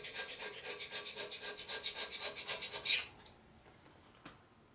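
A scraper shaves an old gasket off a 1983 Harley FXRT 80ci shovelhead engine in a close run of rapid rasping strokes for about three seconds, then stops, leaving near silence broken by one brief scrape.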